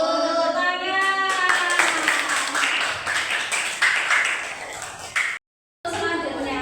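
A group in a classroom breaks into sustained hand clapping, loud and dense with overlapping claps, ending abruptly in a short silence before more sound resumes.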